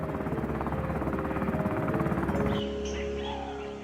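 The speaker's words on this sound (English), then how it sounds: "the helicopter departs." A helicopter lifts off and departs with a steady, loud rotor thump and engine drone that cuts away partway through, leaving a quieter lingering whine.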